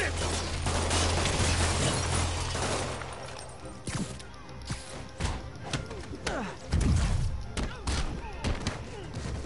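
Rapid thuds, impacts and gunfire-like bursts from combat in Marvel's Spider-Man as Spider-Man kicks an enemy, a busy, loud mix of strikes and crashes with voices shouting over the fight.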